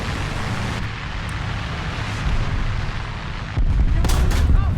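A German VK 3002 (M) prototype tank in War Thunder fires its cannon: a loud, rumbling battlefield roar jumps into a heavy boom, followed by sharp cracking bursts, with no talking.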